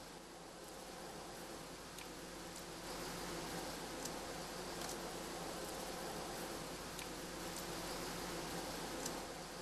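Honeybees buzz around their hive in a continuous, soft, dense hum that grows slightly louder partway through, with faint rustling and no voices.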